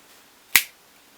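A single sharp finger snap, crisp and close, standing alone against a quiet room background.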